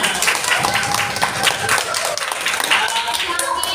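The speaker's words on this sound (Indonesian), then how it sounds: "Waktunya selesai, beri tepuk tangan buat semuanya" A fifth-grade class claps together in a classroom, a dense flurry of many hands with scattered sharper claps throughout, fairly close and loud.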